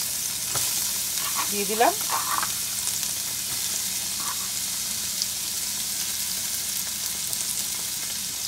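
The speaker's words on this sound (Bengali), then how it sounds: "আমার এই ফ্রাই প্যানটার মধ্যে আমি দিয়ে দেবো পেঁয়াজ" A chopped medium white onion sizzles in a frying pan, with a steady close crackle throughout and a brief spoken phrase near the start.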